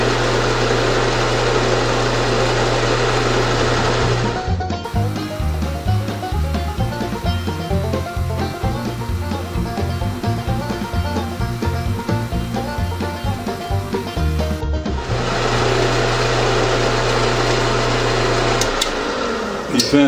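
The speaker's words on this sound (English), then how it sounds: "I'm using this Jacobs mini drill to get pilot holes on the bar" A Jacobs mini drill bores pilot holes into a metal bar, giving a steady motorized whir with a rhythmic mechanical chatter. The tone shifts during a long middle stretch as the bit works the metal, then returns to an even hum.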